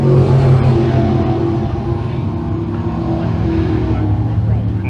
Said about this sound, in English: Drivers out on the racetrack, 9 in total here tonight, as we are set to go for 20 laps.